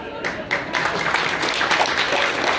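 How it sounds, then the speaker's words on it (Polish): Audience applause at the opening ceremony of a carp angling competition at Dwór Mościbrody in 2022. Dense, steady clapping starts almost at once and fills the short moment, with some voices mixed in. "Brawa dla..."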